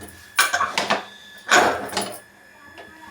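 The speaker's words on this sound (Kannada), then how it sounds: "ಇಟ್ಟಿದ್ದೀನಿ ಕುಕ್ಕರ್ನ" A pressure cooker is set down on a stove with a few short metallic clanks and knocks, close by in a home kitchen, followed by a lighter clink.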